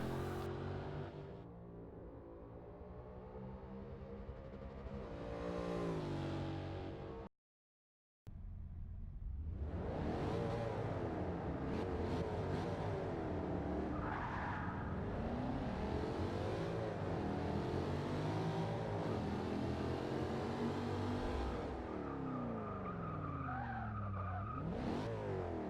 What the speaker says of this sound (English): we're going to just listen to the engine noises now